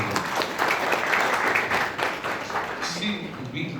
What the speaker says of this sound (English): A round of applause for that wonderful question.